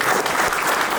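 Loud, dense applause from an audience at a Kannada film poster launch event, steady and sustained throughout with no pauses.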